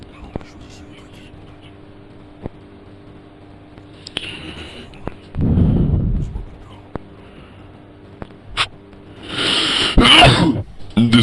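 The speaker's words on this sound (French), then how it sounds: "Désolé de vous éternuer dans les oreilles." Someone sneezes close to the microphone over quiet Last of Us Part II game sounds and soft ticks. A second forceful sneeze-like burst follows a few seconds later.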